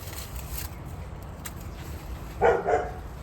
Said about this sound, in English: It's my neighbor's dog. She's a beautiful German Shepherd.